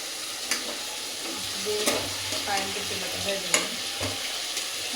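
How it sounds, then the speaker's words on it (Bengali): Egg frying in a wok sizzles steadily and close, broken by sharp stirring scrapes and clicks, with no talking. "আমি আরেকটা কড়াইয়ে ডিমটা ভাজবো।"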